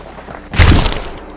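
A single loud gunshot from the film Chinatown, one sharp sudden blast with a brief fading tail after a quiet moment.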